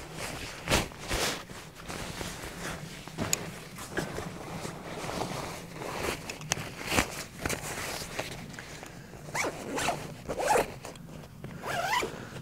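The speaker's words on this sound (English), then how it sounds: "So you simply unzip it, throw it over the bag," The nylon zipper of an Osprey Farpoint Trek 75 backpack's ripstop air cover is pulled in several quick, close scratchy runs, with handling rustles in between.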